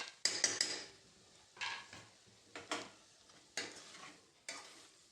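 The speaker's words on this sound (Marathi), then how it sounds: "छान मिक्स करून घेऊया." A spoon stirs chopped coriander into a spicy green-chili brinjal curry in a pan, making a few soft scraping strokes with a faint sizzle underneath, quiet and close.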